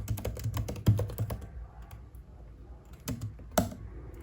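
Typing on a computer keyboard, a quick run of close key clicks followed by a pause and then a couple more sharp keystrokes, heard on their own.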